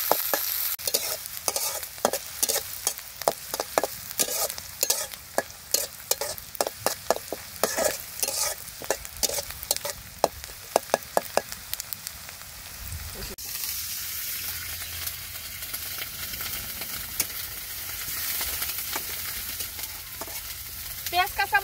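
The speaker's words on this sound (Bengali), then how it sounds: "দিয়ে দিলাম পেঁয়াজ কুচি, কাঁচামরিচ। পেঁয়াজ কাঁচামরিচ ভালোভাবে ভেজে নিব" Chopped onion and green chilies frying in a pan, with a long run of rapid spatula scrapes and clinks over constant sizzling, then a calmer steady sizzle, close by with no talking.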